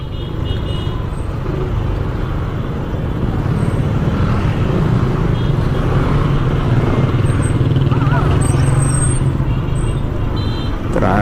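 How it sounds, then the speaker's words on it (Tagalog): Dense road traffic on a town road in Labrador, Pangasinan, with cars, trucks and buses rumbling past in a constant loud roar, engines droning close by and occasional brake hisses and faint horn-like tones rising above the din. "Traffic dito, oo."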